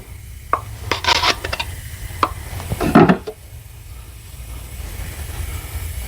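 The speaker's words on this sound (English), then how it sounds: "break yourself up some chunks" Chunks of paste wax broken off in a jar for a clean rag give a few short, dry scraping crunches, clustered early and again midway, close and fairly quiet over a low background hum.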